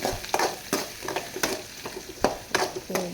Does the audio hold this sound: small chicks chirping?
no